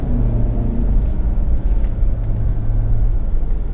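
A Land Rover Discovery Sport's 2-liter EcoBoost 4-cylinder engine with 9-speed ZF transmission hums as a steady, loud low rumble, continuous and unchanging, with no voices over it.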